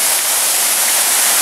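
Steady, loud rush of a waterfall pouring down into a pool at Çaylak or Suuçtu falls, a continuous broadband roar with no break and no voices.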